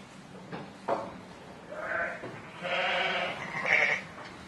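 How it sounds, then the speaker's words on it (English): Ewes and lambs bleating on a sheep farm, several overlapping calls of varying pitch rising one after another over a quiet background. "So, Tomás, you're weighing lambs with Sheep Ireland?"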